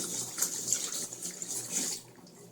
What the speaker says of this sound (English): Take my hands, wash them up.